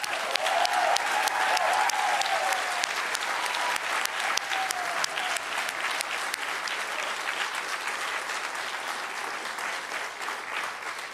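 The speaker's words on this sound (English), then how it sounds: "A round of applause for Cadet DiLorenzo." A large audience applauds at a military commissioning ceremony for cadets, sustained dense clapping that fills the whole stretch at steady loudness, fading slightly toward the end.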